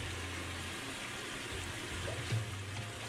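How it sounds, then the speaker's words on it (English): A Whirlpool WTW5200SQ0 top-load washing machine fills with water, a steady close rushing hiss with a low motor hum underneath and no voices. "it's already filling water."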